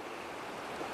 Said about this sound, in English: There's a lot of water pumping down.